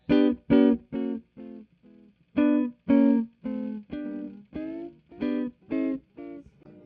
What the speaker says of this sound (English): It's kind of like it's a broken tape delay where it's just kind of like slowing down, speeding up, and pitch bending like crazy.